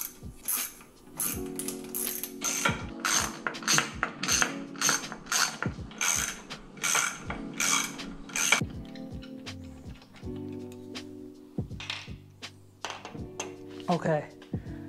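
Ratchet turning a 10 mm socket on the lower unit bolts of a two-stroke outboard motor: rapid clicking pawl strokes in quick runs, close and distinct, pausing and resuming, with someone talking alongside.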